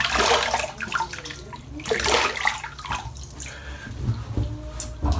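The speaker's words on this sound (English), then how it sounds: "I'll wet my face." Water splashes from cupped hands onto a face at a bathroom sink before a wet shave, in several close, irregular bursts of splashing and dripping with no talking.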